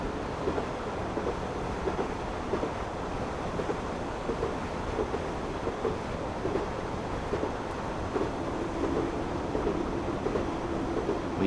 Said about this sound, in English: So I'm now going to shut off the power and just allow the train to coast along here.